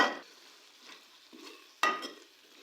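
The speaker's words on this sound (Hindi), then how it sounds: "सब्जियां जो हैं ये अच्छे से मसाले में मिक्स हो गई हैं" A spoon stirs potatoes, peas and carrots through thick masala in a pan, giving a few scraping strokes over a faint frying sizzle, with the loudest scrape near the start and another one later.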